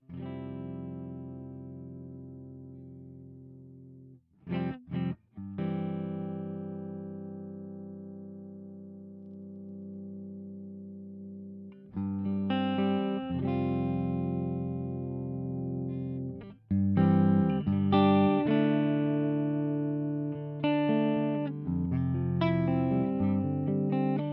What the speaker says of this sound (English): We got our clean tone.